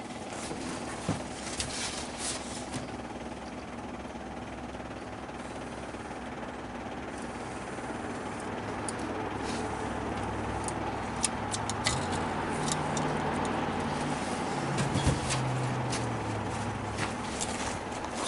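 The engine of a 1959 Ford Fairlane 500 Galaxy, running for the first time in over 20 years, idles with a steady broadband rumble. It grows slightly fuller partway through, as if revved up a touch, and there are occasional clicks and taps nearby.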